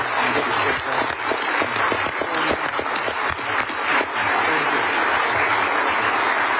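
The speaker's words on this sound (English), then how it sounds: "Would you all say thank you with your applause?" A large audience applauds continuously, dense clapping filling the whole stretch at a steady, loud level.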